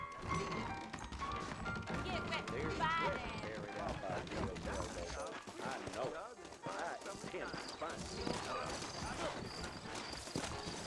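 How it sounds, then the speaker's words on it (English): Rhythmic hoofbeats of horses trotting close by in a video game, mixed with voices talking and scattered clatter. "I got the horses saddled up and ready out front."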